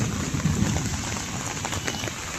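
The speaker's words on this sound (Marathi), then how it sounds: "थोडा पाऊस चालू आहे, सगळं पाणी साचलंय." Heavy rain pours steadily in Balewadi, Pune, a dense close hiss of drops on surfaces and standing water, with a low rumble beneath that may be distant thunder.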